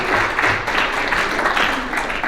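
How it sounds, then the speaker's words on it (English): Audience at a Golden K Kiwanis club meeting in Decatur claps in a short, moderately loud burst of applause, steady throughout and fading slightly at the end. "So let's have a big round of applause."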